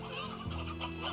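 A chicken in the video game Slime Rancher clucks in a short run of close, clear clucks over a faint steady hum.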